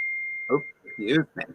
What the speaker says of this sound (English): was that your microwave going off